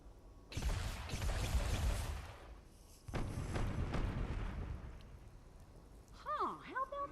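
A video game cannon fires and blows apart a statue, loud booming blasts followed by a crumbling rumble, another heavy burst a few seconds later, and a voice chattering near the end.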